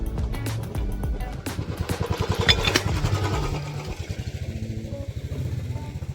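A motorcycle runs close by, its engine a steady, rough rhythmic chug that swells as it passes and then carries on at a lower level, with no talking.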